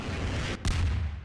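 Gunshot from a weapon in Garry's Mod, a single sharp blast over a steady rumbling game background, fairly loud and close.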